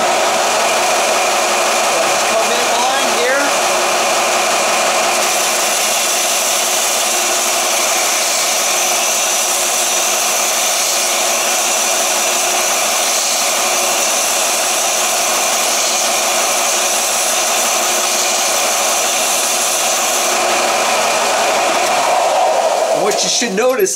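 A tungsten electrode is ground on a 36-grit ceramic abrasive wheel from Combat Abrasives for TIG welding, a loud, steady high whirring grind that holds constant for over twenty seconds before winding down.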